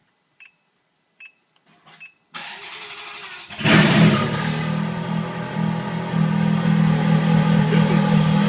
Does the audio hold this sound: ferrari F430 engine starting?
yes